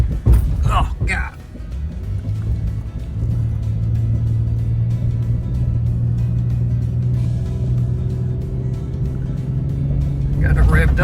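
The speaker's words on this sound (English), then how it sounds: "Got it revved up here." A 2022 Nissan Frontier engine revs and holds a steady drone while driving on a thick sand road in a forest, loud and close, with a voice speaking at the start and end.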